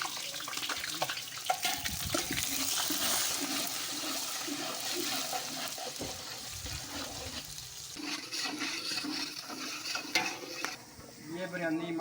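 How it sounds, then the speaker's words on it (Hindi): Onions tipped into hot oil in a pot for chicken biryani give a steady, loud sizzle mixed with stirring and splashing. "असी प्याज डालने लगे हैं देशकी में।"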